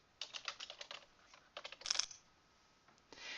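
Quick bursts of keystrokes clatter on a computer keyboard while notes are entered into an Outlook appointment, close and light, in short irregular runs with brief pauses between them.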